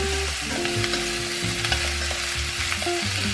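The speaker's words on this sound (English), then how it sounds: "Stir fry until the mushrooms are cooked" Mushrooms stir-fried in a hot pan for Cantonese-style beef with mushroom, giving a steady loud sizzle broken by frequent scraping and stirring knocks and a few brief tonal clinks, with no voices.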